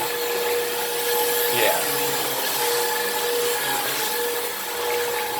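A Hoover React cordless vacuum runs continuously on a dirty floor, a loud, steady motor whine with a brief brush sweep midway, while a voice speaks briefly over it.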